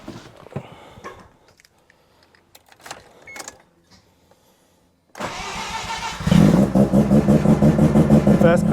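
Bridgeport-ported rotary engine in a Mazda RX-7 cranks and catches, then settles into a loud, choppy, pulsing idle close by, following quieter clicks and handling sounds.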